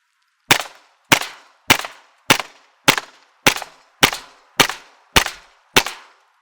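Ten sharp, evenly spaced shots from an EMG Archon Type B airsoft gas blowback pistol, each a loud close crack with a short metallic tail, steady rhythm about every half second.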